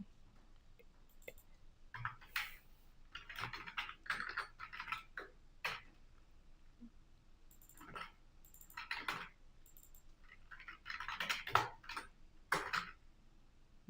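Code typed on a computer keyboard: quiet, irregular bursts of clicking keystrokes with short pauses between flurries, heard close and faint in a still room.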